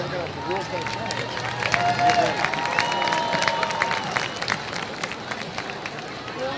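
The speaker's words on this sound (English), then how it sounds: "Let's welcome the tremendous Eastview Patriot Band with a round of applause." Stadium crowd at a high school football game applauding and cheering for a marching band, a broad roar of clapping and crowd noise mixed with scattered tonal sounds.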